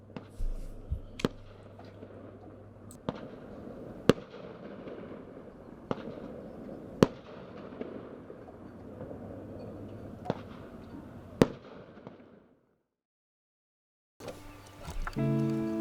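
Fireworks bursting over a bay during a 4th of July celebration, sharp distant cracks spaced every few seconds over a low murmuring background, then a brief silence before other sound returns.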